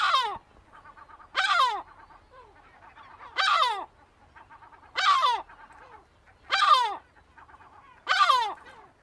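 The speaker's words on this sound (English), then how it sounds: "And here's the song of a seagull." A seagull gives loud, descending squawking calls about every two seconds. Six cries sound in a row, with softer chattering notes between them.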